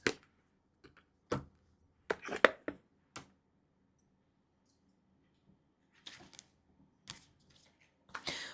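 Three oracle card decks are shuffled by hand in quiet, scattered bursts of soft riffling and tapping clicks separated by long pauses.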